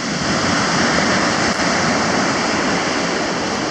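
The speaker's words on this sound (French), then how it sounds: "Des vagues aujourd'hui, super sympathiques." Ocean waves wash continuously onto a beach on a windy day, a steady loud roar of surf and wind with no distinct breaks.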